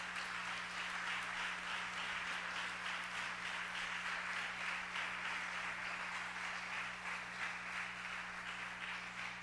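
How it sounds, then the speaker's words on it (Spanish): A church congregation claps steadily and fairly quietly for several seconds, an even patter of many hands over a low background hum. "Denle un aplauso a Jesús."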